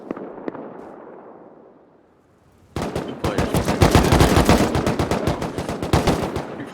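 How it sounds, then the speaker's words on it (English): Rapid automatic gunfire traded between players in a Rust 6v6 tournament match, dense bursts of shots starting abruptly after a quieter ambient stretch and continuing loud and steady to the end. "bullets traded back and forth"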